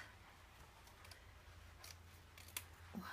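Paper strips being cut with scissors for a scrapbook project organiser, a few quiet close snips and small ticks over a faint hum, with a sharper snip near the end.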